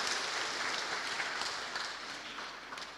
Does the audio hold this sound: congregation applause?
yes